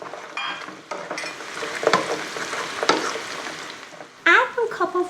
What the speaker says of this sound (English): Add the fried pork belly and saute for about a minute.